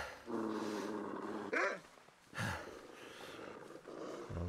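Dog growling in The Long Dark on Interloper difficulty, a low sustained snarl running through most of the stretch with a sharp snort or bark in the middle, close and fairly loud.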